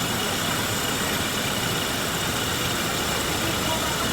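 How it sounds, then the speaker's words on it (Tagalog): Car engine idling after being repaired for a crank-but-no-start fault caused by water in the gasoline, a steady close rumble running evenly throughout without pauses. "normal na uli ang makina"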